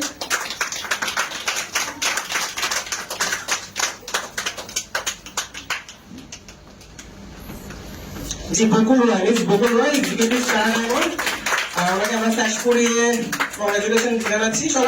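Audience applause at a women's DXN business gathering: scattered, uneven hand claps ring out for several seconds, thin out, and then someone speaks loudly over a faint background.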